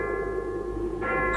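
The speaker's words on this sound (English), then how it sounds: "I hear bells. Oh, it's Big Ben." In a cartoon, the bells of Big Ben ring out over London as a sustained, resonant tolling tone with layered harmonics, and a brighter bell strike joins near the end.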